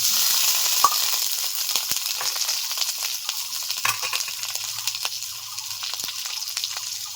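Boiled potatoes frying in a pan give a continuous crackling sizzle at moderate level, with occasional small pops and stirring scrapes and no talking.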